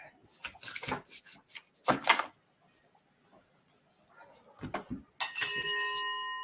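Near the end, a doorbell chime sounds once as a bright, ringing tone that lingers and fades, after scattered ticking and knocking noises.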